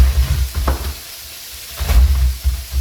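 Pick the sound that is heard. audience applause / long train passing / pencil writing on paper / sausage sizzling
sausage sizzling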